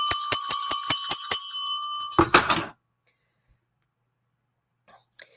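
A small bell rings in a quick series of about eight bright, evenly spaced dings, followed by a clatter as it is handled or set down, then near silence.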